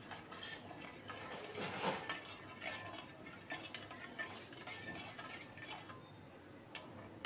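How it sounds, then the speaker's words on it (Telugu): A spoon stirs sugar syrup for gulab jamun in a pot, giving steady scraping and clinking strokes that repeat throughout at close range. "అట్లా కలుపుతూనే ఉండాలండి"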